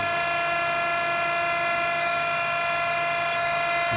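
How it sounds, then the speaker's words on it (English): A constant, loud mechanical whine and hum from the running hydraulic pump of a Toolmex radial drill, steady and unbroken, with no voices. "Put some noise there in the hydraulic pump."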